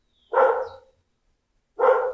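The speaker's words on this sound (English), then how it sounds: "Dog's barking" Two short, loud indoor barks from a dog, spaced about a second and a half apart against near silence.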